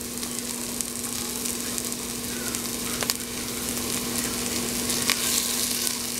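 Crushed boiled potatoes are stirred into a sizzling malai kofta gravy in the pan, a continuous close frying hiss with occasional scraping stir strokes and no talk.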